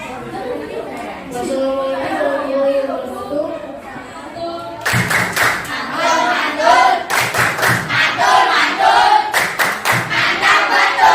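A class of schoolchildren does a group clapping chant, rhythmic bursts of many hands clapping together, loud and close, amid lively classroom chatter.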